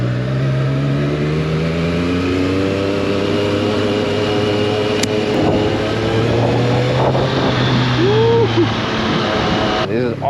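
Triumph Street Triple R motorcycle engine pulling away with a light throttle, a steady harmonic drone rising gradually in pitch with a brief rev blip near the end, wind rushing over the microphone throughout.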